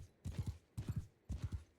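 Armored horse galloping in Mount & Blade 2 Bannerlord: muffled hoofbeats in three quick clusters of triple thuds, repeating about every half second at a moderate, even pace.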